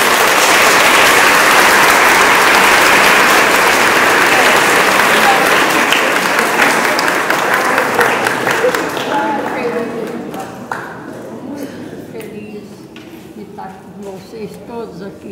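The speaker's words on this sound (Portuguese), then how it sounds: "Vamos bater uma salva de palmas para ela." Applause from a gathered crowd honoring a 99-year-old woman: loud, dense clapping fills the first half, then thins out and fades into scattered claps and murmuring voices.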